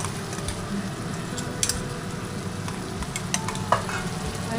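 Onion, ginger, garlic and green chili paste with spices sizzles softly in a pan, a steady low frying hiss broken by a few faint clicks of stirring.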